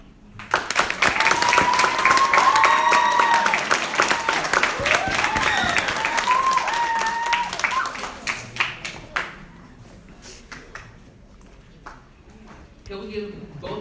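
Audience applause for candidates at a youth leadership academy election event, a dense crowd clapping loud for about eight seconds with cheering voices over it, then fading to scattered claps and murmur.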